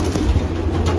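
Pigeon cooing near a pigeon racing loft at the finish of a race, a soft low murmur that carries steadily through the whole moment with no talk over it.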